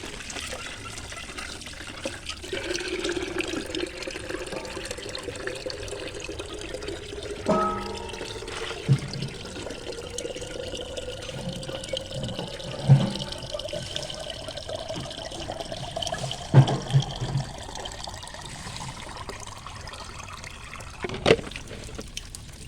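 Liquid poured into a container for chickens on a poultry farm, a steady soft trickling and gurgling stream that runs for a long stretch, with occasional faint knocks and bumps in the background.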